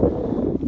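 Steady wind buffets the microphone on top of a grassy mountain bald along the Appalachian Trail, a dull, low rumble filling the brief moment.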